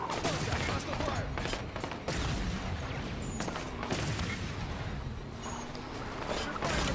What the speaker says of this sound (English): Contact, hostile fire.